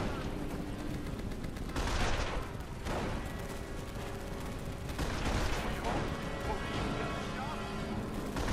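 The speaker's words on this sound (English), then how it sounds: "We're taking fire here!" Battle gunfire from the World War II strategy game Company of Heroes: rapid rifle and machine-gun bursts crackle over a dense, loud wash of combat noise, with heavier volleys near two and five seconds and shouting voices in the mix.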